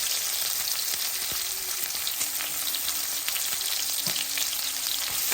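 Ginger is added to a hot frying pan and sizzles loudly and continuously up close, with occasional clicks and scrapes from stirring.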